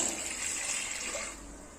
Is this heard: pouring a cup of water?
yes